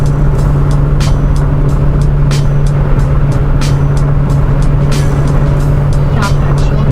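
A Mazda Protege cruises at speed on the I-4 highway while weaving through traffic, its cabin filled with a loud, steady roar of road and engine noise that runs unbroken throughout.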